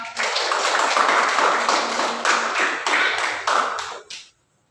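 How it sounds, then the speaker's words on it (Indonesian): A classroom of students claps hands together in several quick bursts of sharp, fairly close claps, stopping abruptly into silence. "Beri tepuk tangan dulu dong"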